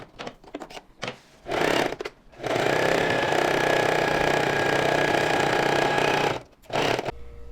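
An overlock sewing machine stitches jacket sleeves in quick bursts: a few short runs, then a long steady whirring stretch of several seconds, then another brief burst.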